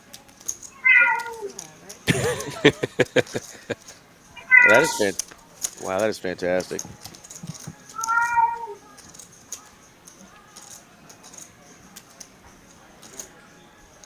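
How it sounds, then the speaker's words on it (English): A cat meowing in the room during a live poker final table broadcast, several separate drawn-out meows spaced over several seconds, with people talking and clicking sounds in between. "while we had a pussycat meowing"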